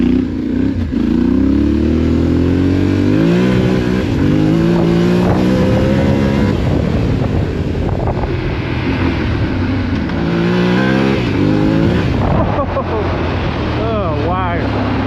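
A Yamaha Tenere 700 motorcycle is ridden under load, its engine droning loud and close with repeated rising revs as it accelerates through the gears. Heavy wind rush runs throughout, and a rider speaks over the engine.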